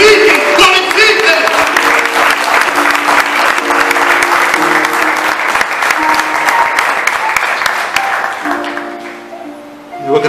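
A church congregation claps steadily through a worship service, a dense continuous wash of applause mixed with music and a voice that carries over it, fading slightly near the end.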